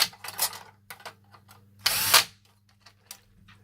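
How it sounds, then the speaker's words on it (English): A power driver whirs in short bursts while a screw is driven back in during a Toyota Entune 3.0 Android head unit installation, close up with a longer burst midway and small clicks between. "You're just gonna put it back with one screw just to show you."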